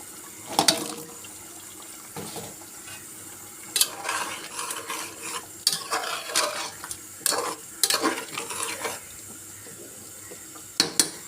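Beef curry in a pan as potatoes go in, with repeated scraping stirs and light sizzling in bursts, fairly close and moderately quiet, no talking.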